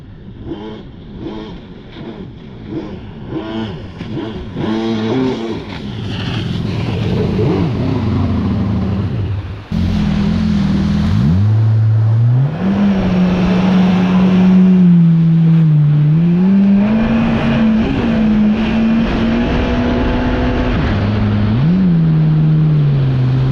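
A Yamaha FXHO personal watercraft engine drones and revs while riding through rough water, the pitch rising and falling with throttle changes, loud and close, with a brief cut near the middle.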